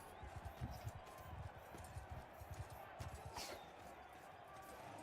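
In the medieval combat game Bannerlord, horse hooves thud in a quick, uneven galloping rhythm of soft clip-clops over a dull, constant background rumble.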